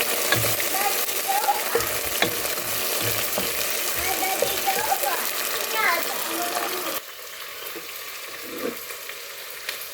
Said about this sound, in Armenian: արդեն եփվում է մեր բանջարով ապուրը